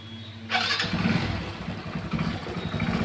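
A Hero Passion Pro i3s motorcycle engine cranks and catches, then settles into a steady, close idle.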